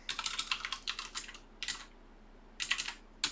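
Rapid clattering keystrokes on a computer keyboard, typed in short bursts with brief pauses between, close and fairly quiet with no talk.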